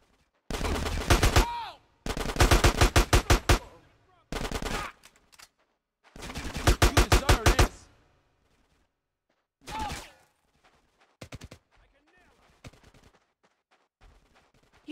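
Loud automatic gunfire in GTA San Andreas Definitive Edition comes in several rapid bursts of a second or two each, separated by near-silent gaps, with a few softer single shots toward the end.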